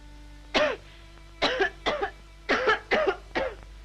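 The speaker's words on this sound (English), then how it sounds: "I cough all the time" A man coughs in a 1934 film scene, six short harsh bursts spaced unevenly, some in quick double hacks, close and clear against a faint steady hum.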